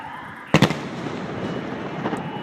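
Fireworks burst outdoors in a sharp double crack, followed by a lingering crackle and rumble and a fainter second pop about a second and a half later.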